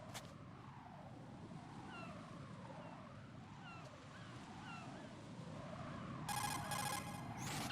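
A cell phone rings inside Metal Gear Solid 2: Sons of Liberty, its electronic warbling tone joining steady game ambience and growing louder and denser toward the end.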